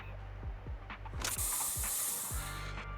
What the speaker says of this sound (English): Here, have a taste of this special Bang Boo spray